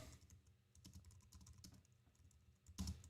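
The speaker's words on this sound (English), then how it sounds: "I'm just typing" Quick, continuous typing on a computer keyboard, dense clicking keystrokes heard up close and alone at a low level, with a slightly louder flurry near the end.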